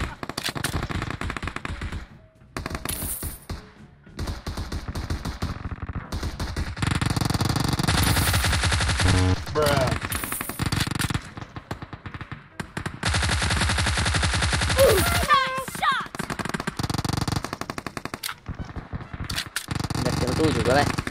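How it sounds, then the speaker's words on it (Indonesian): Gunfire in a shooter video game: rapid automatic bursts and single shots crackle in clusters, some near and loud, others fainter, with pauses and in-game effects between volleys. "Suara tembakannya di situ tapi gak ada orangnya."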